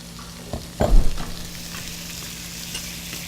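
Garlic and onions sweating gently in a pan, a soft steady sizzle with a sudden scrape and clatter of a utensil near the start, then a quieter continuous hiss.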